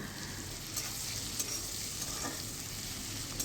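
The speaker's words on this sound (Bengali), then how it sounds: "এই আদা আর রসুন কুচি দেওয়া হয়ে গেলে এগুলোকে একটু ভালো করে নেড়ে নিই, একটু ব্রাউন ব্রাউন কালার হোক।" Chopped ginger and garlic stirred and fried in a pan, browning for tarka dal; a steady close sizzle runs throughout with light scraping stir strokes and no talk.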